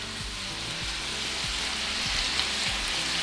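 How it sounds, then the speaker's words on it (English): Sliced peppers and onions soften and sauté in a pan, giving off a soft, steady sizzle throughout, low and close, with no voices. "As these peppers and onions starting to soften up and saute"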